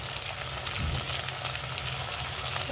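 Potatoes coated in turmeric and salt sizzle in hot oil with softened onions in a pan, a steady dense crackling fry close by, with faint stirring clicks and no talk.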